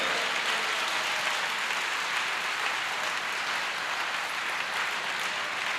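A church congregation claps during an Urdu-Hindi sermon, a steady, dense patter of many hands that holds at even loudness throughout without any voices.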